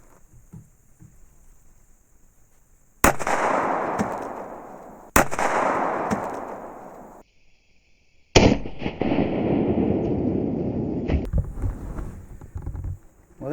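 A Polycase ARX .45 ACP round fired into a cinder block target, several sharp, loud close shots, each followed by a long, roaring wash of noise and echo, with gaps between them and no talking.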